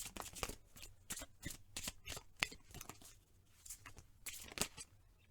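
Oracle cards are shuffled by hand close up, with a quick run of crisp riffling bursts separated by short pauses, quiet and alone.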